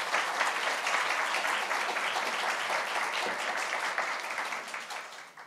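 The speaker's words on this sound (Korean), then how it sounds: "우리 큰 박수로 맞아주시면 감사하겠습니다" A church congregation applauds to welcome a missionary speaker, a dense, loud wash of clapping that holds steady for several seconds and then starts to thin and fade at the end.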